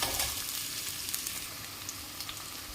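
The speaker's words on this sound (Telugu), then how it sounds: "ఆనియన్ వేసి బాగా ఫ్రై చేయాలి" Onion frying in hot ghee gives a steady, bright sizzle with small crackling pops, close up and continuous throughout, with no talking.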